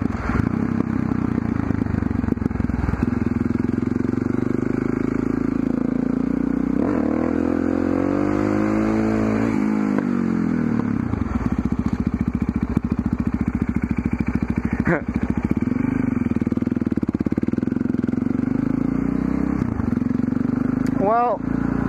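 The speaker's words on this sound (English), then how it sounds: "the throttle is definitely more responsive now" A motorcycle engine revs steadily under a loud, continuous drone as the throttle opens, its pitch sweeping up and down in several pulls, with clattering and scraping mixed in throughout.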